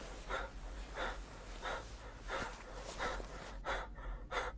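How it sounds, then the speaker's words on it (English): Short, shallow breaths in a quiet room, a series of about seven evenly spaced breathy pulls over a low constant hum, with no speech. "breathing in short, shallow pulls"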